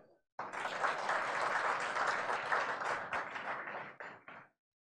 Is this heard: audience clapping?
yes